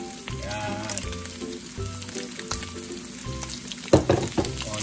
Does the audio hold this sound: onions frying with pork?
yes